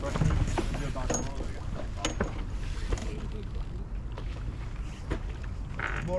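Wind buffets a sailing yacht underway, a steady rushing and gusting over the microphone mixed with water and boat clatter, close and fairly loud throughout.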